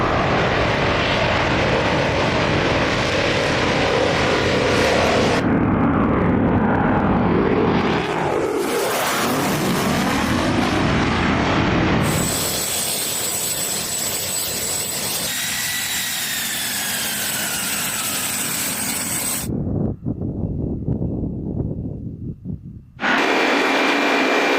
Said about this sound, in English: Famous A-10 planes, Apache helicopters, now with Hellfire missiles.